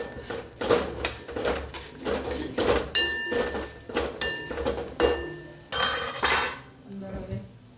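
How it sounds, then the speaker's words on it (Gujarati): A spoon stirs ingredients with sugar together in a bowl, giving repeated scraping strokes and clinks against the dish in an irregular rhythm, with a voice speaking faintly now and then. "સરસ મિક્સ કરી લઈએ."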